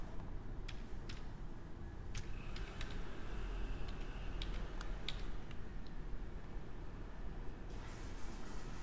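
Computer keyboard keys pressed while working in an Excel spreadsheet, faint scattered clicks, some in quick pairs, over a low steady background hum.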